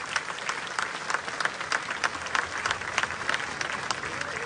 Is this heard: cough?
no